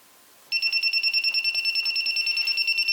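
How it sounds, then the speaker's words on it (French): A J-Mini drone's failsafe buzzer kicks in suddenly and sounds a continuous shrill, rapidly pulsing electronic tone, loud and close, with no talking. "activer le buzzer"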